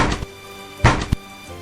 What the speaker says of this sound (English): But the knock came again